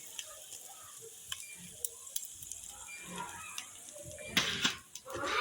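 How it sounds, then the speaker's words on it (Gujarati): Edible gum (gond) fries in oil, a soft, close sizzle dotted with small pops and crackles that swells into louder bursts near the end. "આ તમે જોઈ શકો છો મારા બા ગુંદર તળે છે"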